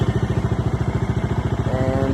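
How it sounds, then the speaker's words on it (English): A Bajaj Dominar 400 motorcycle with a dual-barrel exhaust idles steadily, its loud, even low thumping pulses rapid and close, with no voices. "Let me just start my brand new bike so that you can listen to the exhaust sound"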